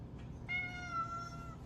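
A pet cat meows once in a long, drawn-out call, fairly close, over a low room hum with no talking.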